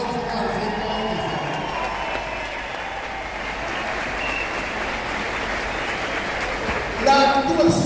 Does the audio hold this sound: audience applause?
yes